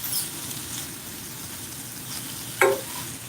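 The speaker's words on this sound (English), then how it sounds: "The sausage isn't getting as crispy as I want it to. It's going to take a while. But the onions are browning." Sausage and onions frying in a pan, a steady soft sizzle and crackle running throughout at moderate level, with one brief sharper clink or scrape near the end and no talking.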